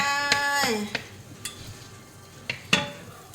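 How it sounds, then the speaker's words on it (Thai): Garlic is added to a hot pan and fried for a stir-fried chicken intestine dish, giving a soft sizzle punctuated by several sharp clinks of a utensil against the pan. "ใส่กระเทียมลงไป"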